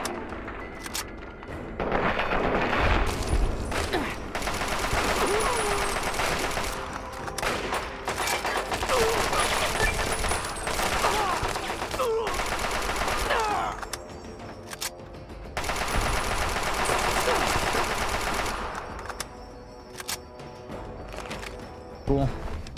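Shotgun blasts in Fallout 3 boom in a rapid, dense string of shots, loud and close, with short pauses between flurries.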